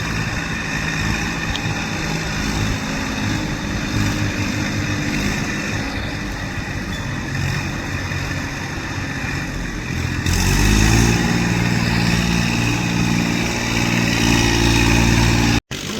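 A tractor engine rumbles steadily as it drives through water, with a louder, deeper chugging surge partway through as the machine pushes on, set against a constant wash of noise.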